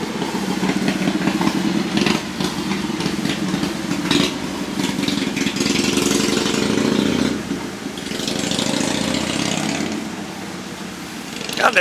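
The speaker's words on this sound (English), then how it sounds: "that thing don't even sound like a Kawasaki. It sounds more like a fucking Harley" A 1981 Honda GL1100 Goldwing motorcycle engine runs after a new starter install, a loud, rough, fluctuating rumble with a few revs and dips, heard close up in a garage.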